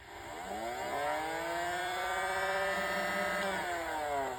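A Nerf Rapid Strike blaster's flywheel motor, modded to run on IMR batteries, revs in a steady close whine that rises in pitch as it spins up, holds, then dips slightly near the end.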